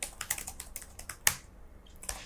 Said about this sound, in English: And now I'm going to type the question